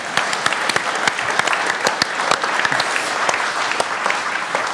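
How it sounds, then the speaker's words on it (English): A live crowd at Lotus breaks into a steady round of clapping, dense and even with sharp individual claps popping out, sustained at close range for the whole stretch without voices. "Roll a round of applause for that."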